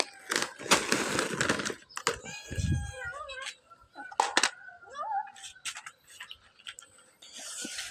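A house cat meows several times in drawn-out, wavering calls, some rising and falling in pitch, spaced between brief pauses. The cat is close, and a person talks nearby in short bursts.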